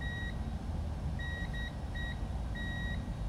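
A continuity tester gives sharp high electronic beeps as its probes touch a small UFL antenna connector on a Caddx Vista FPV unit, several short and longer tones with gaps, over steady background hum.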